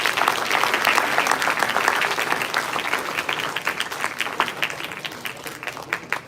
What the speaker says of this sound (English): A thundering round of applause one more time.